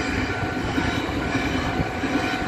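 A train rolls through a level crossing that is under construction in Tainan, at a railway relocation works site, giving a steady, loud, close rumble of rail wagons throughout with no pauses.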